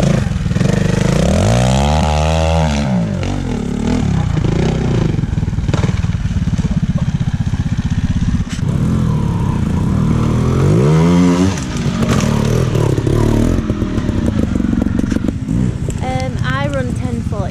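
Racing motorcycle at a Milnthorpe Cup event pulled hard at full throttle, engine note sweeping up through the gears in repeated rising runs, loud and close throughout, with a voice talking over it.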